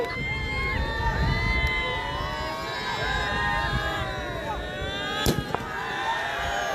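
Fireworks crackling over an excited crowd cheering and shouting at a night cricket match, a steady roar of voices with a sharp bang near the end.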